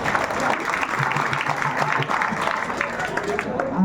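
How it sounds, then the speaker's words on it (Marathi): At a village wrestling bout, a crowd claps in a dense, steady wash of applause while voices carry through it. "करा की टाळ्या, करा की टाळ्या"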